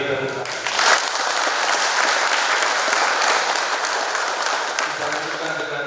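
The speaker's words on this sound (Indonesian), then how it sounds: "Kita beri tepuk tangan." Guests at a Catholic wedding in church break into sustained applause, a dense crowd of clapping hands that swells and holds steadily for several seconds.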